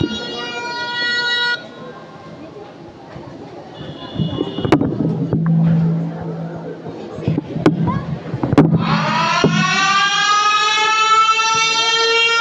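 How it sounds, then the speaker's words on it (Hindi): Warbling siren sounding for a school mock drill, rising and falling harmonic wails at the start and again swelling loudly near the end, with children's voices and talk in between. "देखिए इस तरह की सायरन बजेगी।"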